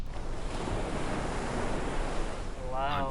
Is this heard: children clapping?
no